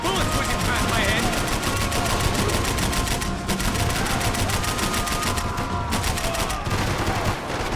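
Relentless gunfire in the video game Max Payne 3, a dense, loud continuous barrage of automatic rounds, with a voice faintly under the shooting.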